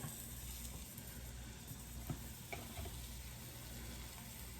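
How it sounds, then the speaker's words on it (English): Soft, steady sizzling of zucchini in a hot pan, a quiet hissing crackle with a few faint clicks, no voices. "There it goes, sizzling a little bit."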